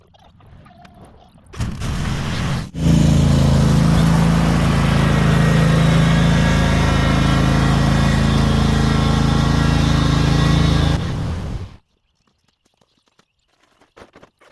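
A riding lawn mower engine cranks briefly, catches, and runs at a loud steady drone for about nine seconds before cutting off into near silence.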